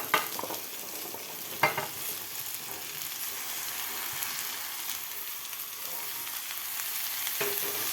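Fresh mixed vegetables being sautéed in masala for a mixed-vegetable khichdi, an even crackling sizzle with occasional sharp spoon knocks and scraping stirs, close and steady throughout without any talking.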